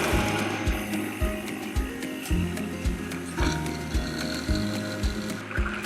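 Hand-cranked kitchen tool mashing cauliflower, a close, repetitive ratcheting clatter with regular mechanical clicks and thumps in a steady rhythm.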